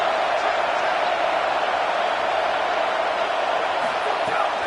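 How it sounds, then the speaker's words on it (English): Stadium crowd cheering in a college football video game, a dense, steady roar of many voices sustained at constant loudness throughout, with no single voice standing out. "this crowd is turning it up a notch."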